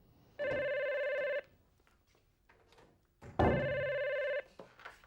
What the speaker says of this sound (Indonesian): Yance pasti akan telepon Marah